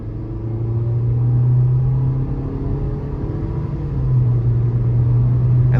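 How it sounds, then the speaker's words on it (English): A 2023 Nissan Versa with a naturally aspirated 1.6-liter four-cylinder and CVT accelerates in sport mode. It makes a steady, loud, low engine drone with a faint rising whine, heard from inside the cabin. "I'm gonna see how it accelerates here."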